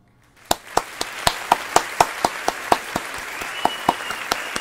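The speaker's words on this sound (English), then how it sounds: "Give a round of applause to everybody who predicted June 16th as the release day trailer." Sparse handclaps, about a dozen sharp claps at a steady pace, like a few people applauding in a room with a faint hum behind.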